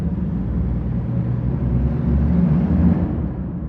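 A car drives steadily on cold, drying roads to warm up its tires, a continuous low engine and road rumble that swells slightly midway.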